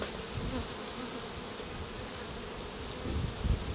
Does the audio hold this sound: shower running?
no